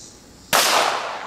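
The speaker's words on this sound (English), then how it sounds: "Oh, another brain shot." A single loud gunshot strikes a splattering zombie target at a shooting range, one sharp crack after a quiet lead-in that rings out briefly and fades.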